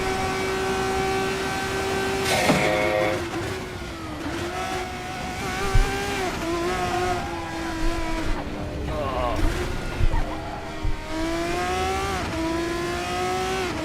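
An F1 car in the F1 24 video game drones with a steady engine whine, its pitch shifting through gear changes, and an abrupt burst marks DRS activation, while someone talks over it.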